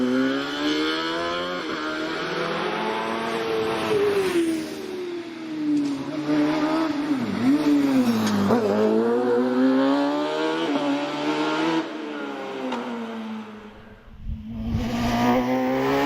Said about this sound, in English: Followed by Rob Clark in the 1 litre Empire Evo.